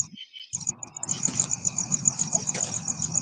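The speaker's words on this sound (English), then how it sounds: "Sorry, my mom can't take that cricket no more." A cricket chirping outdoors in a steady, high, pulsing trill that starts after a short pause, close and fairly clear over faint low background noise.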